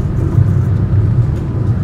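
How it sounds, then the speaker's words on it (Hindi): A car cruises along a highway at about 80 km/h, heard from inside as a loud, steady low road-and-engine rumble with a constant droning hum and no pauses. "हमारी गाड़ी चल रही है अभी 80 की स्पीड में"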